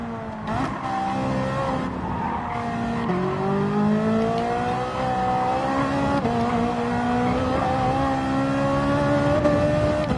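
An Alfa Romeo 4C Group 4 race car in Gran Turismo 7 at Watkins Glen, its engine droning loud and close with rising revs, gear shifts and steady acceleration throughout.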